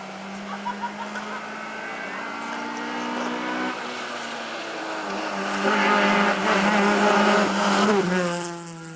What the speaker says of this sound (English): That sounded like a Ford Focus to me.